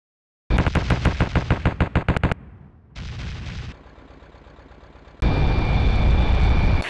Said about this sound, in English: He's firing!